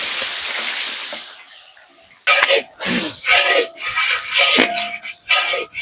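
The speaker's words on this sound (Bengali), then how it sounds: "তেল গরম হয়ে গেছে, দিয়ে দেবো ফোড়ন, শুকনো লঙ্কা, সাদা জিরে। দিয়ে দেবো পেঁয়াজ।" Onions and whole spices, dried red chilli and cumin, hitting hot oil for a village-style biryani: a loud initial sizzle, then bursts of crackling and stirring that rise and fall, with a voice talking over it at times.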